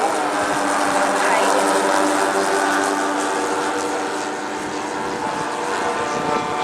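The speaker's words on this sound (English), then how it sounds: "as the B-17 comes through on a very slow low pass" A radio-controlled model B-17 bomber making a very slow low pass at a large-model air display, its engines giving a loud, steady multi-propeller drone that holds evenly throughout.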